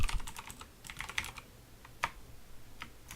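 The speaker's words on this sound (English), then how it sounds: "I will need to type file.open here" Keys on a computer keyboard clatter as code is typed, irregular bursts of close, crisp clicks with short pauses between them.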